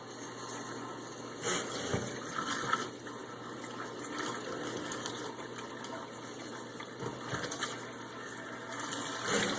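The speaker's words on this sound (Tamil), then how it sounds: "அது வந்து ஷவர் மாதிரி தண்ணி வரும்" A pull-out shower head on a kitchen sink faucet sprays water in a steady, even hiss and splatter into the basin. It runs unbroken for several seconds at moderate volume.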